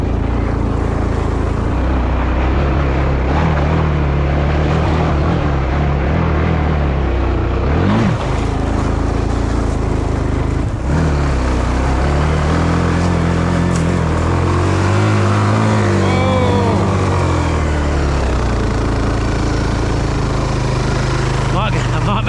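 Kawasaki Bayou 250 ATV engine labouring as it climbs a steep hill on an MX track, a loud continuous drone that wavers and surges in pitch, with brief voice sounds over it.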